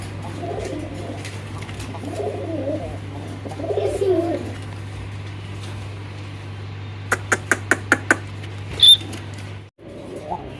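A pair of Blackmukhi fancy pigeons at a seller's stall cooing in soft low bursts, over a constant mains hum, followed by a quick series of sharp clicks and a brief squeak.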